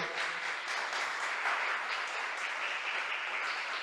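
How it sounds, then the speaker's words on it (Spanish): A church congregation on its feet claps steadily in praise, a dense, even patter of many hands filling the hall without any voices on top. "Denle un buen aplauso al Señor"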